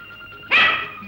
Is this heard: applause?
no